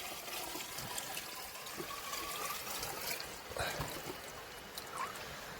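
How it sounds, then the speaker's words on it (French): Water running into a laundry bucket inside a camper van, a steady, soft hissing pour with faint splashes throughout. "J'en profite aussi pour remplir mon seau"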